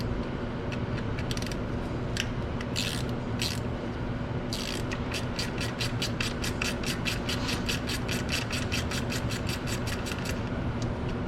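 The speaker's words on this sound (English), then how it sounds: "I've already got a gear wrench out, so I'm just going to use that." A gear wrench ratchets a 10 millimeter bolt on a 2018 Toyota RAV4 during camshaft position sensor work, with rapid repeated clicks in short bursts and then a long even run, close up over steady background hum.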